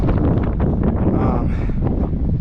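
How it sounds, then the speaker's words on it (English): Strong wind on a mountain trail near Granite Peak, Montana, buffets the microphone in a constant, roaring gust with no pauses, loud and close. "It's getting pretty windy."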